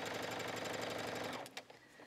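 A sewing machine stitches around the sleeve of a draped square sweater, running at a steady fast whirring rhythm for over a second before stopping, followed by a couple of faint clicks; close and alone.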